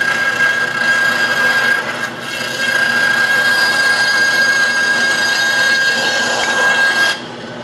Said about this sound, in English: Because I want to keep that blade sharp when I cut that aluminum.